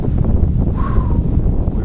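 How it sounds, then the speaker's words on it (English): Strong wind buffets the microphone outdoors from a tree stand during a cold Ohio gun-season hunt, a loud steady low roar throughout, with a brief faint whistling tone in the middle. "It is windy, about 40 degrees, high winds."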